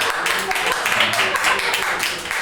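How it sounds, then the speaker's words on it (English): Applause and scattered clapping from the audience at a live stand-up comedy show, a dense steady wash of hand claps that holds at an even level for the whole stretch. "I usually get a rounding applause when I do that joke."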